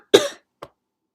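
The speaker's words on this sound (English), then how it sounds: "God, I got a right little cough." A single harsh cough, sharp and close, followed by a short, fainter second cough, then silence.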